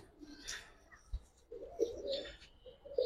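Giribaz and Indian Kaldam pigeons coo softly, a few low, quiet calls against faint background noise with occasional chirps.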